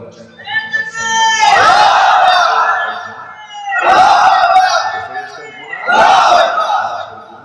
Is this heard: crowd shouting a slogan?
yes